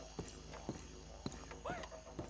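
Horse hooves clip-clop in a Western-themed video game, a steady, fairly quiet series of hoof strikes passing over a soft ambient background.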